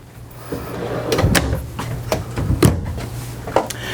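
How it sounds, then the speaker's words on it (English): A few wooden bumps and slides up close as a large pots-and-pans drawer in a Class A motorhome kitchen is pulled open and pushed shut, with light knocks scattered across the few seconds. "Nice big drawer down here for the pots and pans."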